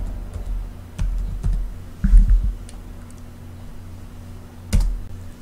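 Typing on a computer keyboard to search for a program, with sparse, scattered key clicks and a few louder bursts of taps against a steady low hum, no voices.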